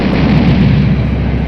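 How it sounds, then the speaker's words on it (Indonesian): Dense, sustained rumbling blast of missile explosions fired from fighter jets, a loud continuous low roar with no pauses or speech. "tembakan misil yang dijatuhkan oleh pesawat itu pun berhasil menghancurkan banyak tanaman merambat sekaligus"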